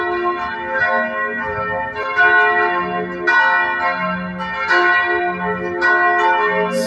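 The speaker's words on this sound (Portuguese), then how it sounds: "a gente está visitando aqui a igreja e o sino tocou" Church bell at Catedral Nossa Senhora de Belém tolls at six in the evening, several loud, close strokes with long ringing overtones, each new strike layered over the decay of the last, with no talk.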